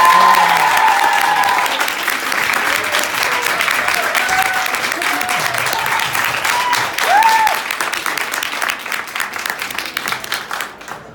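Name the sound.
audience applauding Neal Shusterman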